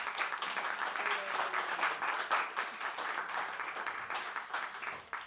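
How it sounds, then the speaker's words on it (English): An audience at a media freedom festival session claps warmly and continuously, a full round of applause holding steady before tapering at the very end. "Please give them a warm round of applause for making the time."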